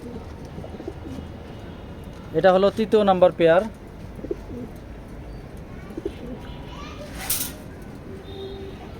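Racing pigeons in a loft give a brief, close coo lasting about a second, set against a room murmur. Someone talks before and after it.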